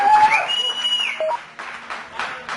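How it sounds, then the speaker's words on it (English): Cheering and clapping from the crew in mission control during a stratospheric balloon jump, a busy crowd wash with tonal beeps and a whistle-like sweep above it, steady and fairly loud. "Applause and mission control"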